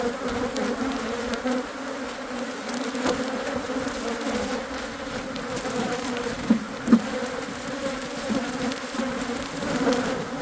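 Dense honey bee swarm buzzing steadily around a beekeeper at a disturbed hive, a continuous close drone with a couple of brief louder passes near the ten-second mark.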